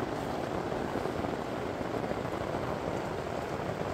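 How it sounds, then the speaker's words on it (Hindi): Steady rain falls at the Khaliya Top trekking base camp, next to a hotel and restaurant, making a continuous broadband hiss of drops on surfaces that holds an even level with no voices. "और बारिश शुरू हो गई।"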